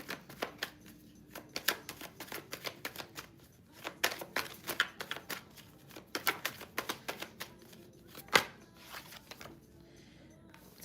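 Tarot cards being shuffled and drawn for a reading: a quiet run of crisp, irregular flicks and snaps, some in quick bursts and a few sharper single slaps, with short pauses between.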